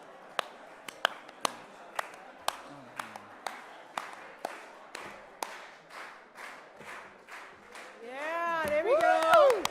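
Sparse, sharp claps ring out at an awards ceremony, a near, irregular series of single hand claps that thins out, followed by people talking and cheering.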